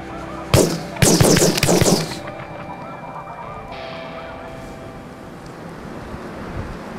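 Snow geese honking during a hunt in snowy northeast Arkansas, with sharp shotgun blasts near the start and goose calls fading into wind and a distant background.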